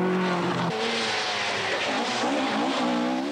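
A 1982 rally car races along twisting, narrow roads on the Isle of Man, its engine a loud, continuous roar with pitch shifting up and down through gear changes and a hint of tire squeal.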